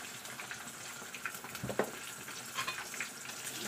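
Pechay (bok choy) sizzles and fries in a hot pan with chili, a steady close crackle with a few sharper pops and stirring scrapes midway.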